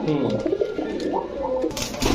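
Fancy pigeons in a loft, many sitting on eggs and including Pakistani breeds, give a close, continuous low cooing murmur with a faint voice mixed in.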